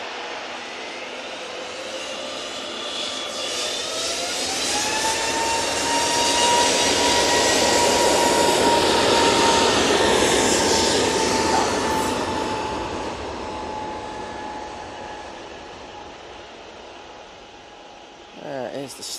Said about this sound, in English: There is the stunning Aer Lingus A380.